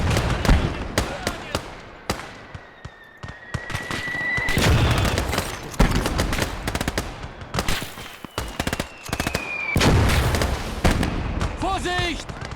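Artillery shells firing and exploding in the Gates of Hell WWII game, with repeated sharp booms and crackling gunfire in bursts, some close and loud, some distant, a whistling shell streaking overhead, and voices talking among the blasts.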